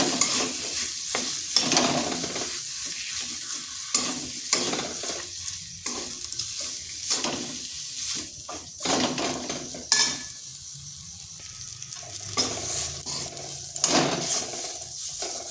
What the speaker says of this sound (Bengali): এরপর আলুটাকে নেড়ে নেড়ে বেশ একটু ভাজা ভাজা করে নেব।